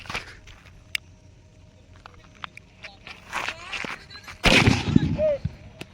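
During Diwali celebrations, a few sharp isolated pops crack out, then a louder firecracker bursts with a crackling, hissing tail; faint voices may sound in the background.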